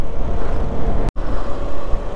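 A loud, steady rumble of a large vehicle on the road, with a momentary dropout to silence partway through.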